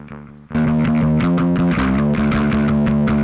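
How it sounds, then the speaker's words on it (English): Bass guitar played through an Ignite Amps SHB1 amp plugin, entering after a brief quieter lead-in with a loud, sustained, thick low-end tone and steady note changes, played alone. "Really only using the Ignite Amps SHB1. That sounds like this."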